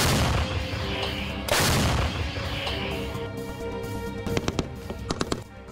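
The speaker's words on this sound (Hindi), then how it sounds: "गोलीबारी करते दिख रहे हैं।" Gunfire from soldiers in Russia-Ukraine war footage, with a few loud broadband bursts early, then a rapid cluster of sharp cracks near the end, over a continuous rumbling background.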